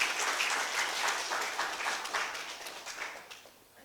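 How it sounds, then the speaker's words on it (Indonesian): An audience at a Partai Demokrat gathering applauds new party members, a dense burst of clapping that stays steady, then thins and fades toward the end. "tepuk tangan untuk anggota baru kita."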